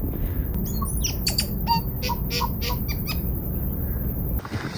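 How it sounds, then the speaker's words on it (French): Bird near the ocean giving strange, electronic computer-like calls, a run of squeaky chirps and warbles over steady loud wind or surf noise. "Il fait des bruits d'ordinateur l'oiseau."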